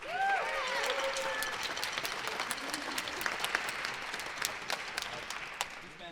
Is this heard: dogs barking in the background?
no